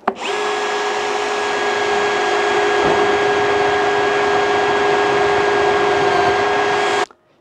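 A drill bores out spot welds on a Fiat 500 Abarth panel, making one loud, close, sustained whine that starts sharply and cuts off after about seven seconds.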